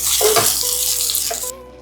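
Water pours into a pan of gravy for a Gujarati stuffed chilli curry, a short loud splashing gush that trails off quickly, with no talk.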